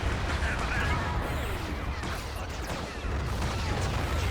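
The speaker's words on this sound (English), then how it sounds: "Dude, all the fucking explosions!" Dense battlefield explosions and blaster fire from the Star Wars: Galaxy at War mod's Battle of Geonosis, a loud continuous rumble of crashing blasts with no pauses.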